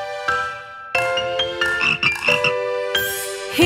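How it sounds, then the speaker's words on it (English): A frog croaks in a children's nursery rhyme song, with several loud, close croaks mixed with bright musical tones. "A frog."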